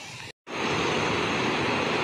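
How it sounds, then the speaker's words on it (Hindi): Waterfall pouring into the Ganga river at Rishikesh, a loud, dense, steady rushing roar close by, broken by a brief silent gap near the start before resuming unchanged, with no voices. "यही वो वाटरफॉल है जिसको मैं नीचे से दिखाने का प्रयास कर रहा था"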